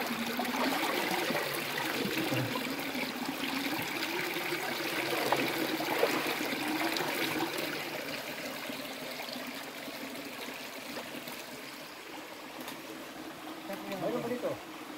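Water of a shallow, cold stream in the countryside, flowing and trickling steadily as a continuous close wash, with people talking and shouting excitedly over it.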